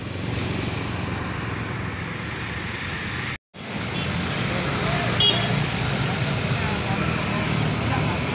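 A convoy of trucks loaded with rice bran rolls past on Jalan Jenderal Basuki Rahmat, Karangkates, Sumber Pucung, Malang, giving a steady, loud roadside rumble of engines and tyres with a brief cut partway through, while a voice talks over it.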